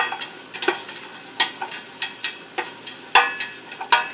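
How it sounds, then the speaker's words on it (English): Onions frying in oil in a pan while a utensil stirs them, soft steady sizzling beneath a series of sharp scraping and clacking stirring strokes, close and irregularly spaced. "get in the onions. Oh, you can hear them sizzling"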